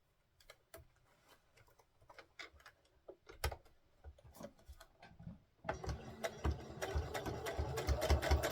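A sewing machine sews down the folded skirt edges of a doll dress with a tulle overlay, starting after a stretch of scattered handling clicks and then running steadily and close, growing louder toward the end.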